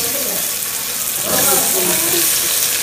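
Tomatoes are added to onions sautéing in a pan for a village-style non-vegetarian feast; a steady sizzle swells louder midway as they hit the hot oil, with stirring noises close by.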